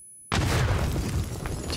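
Grenade explosion in PUBG, a sudden loud boom after a moment of near silence, followed by a rumbling, crackling tail.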